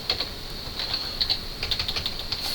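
Steady typing on a computer keyboard while coding a puzzle solution, with quick irregular clicks close to the mic and no talk.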